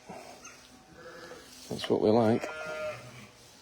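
A sheep bleats loudly during lambing on a farm, one long wavering bleat after a brief earlier call, heard up close amid people talking.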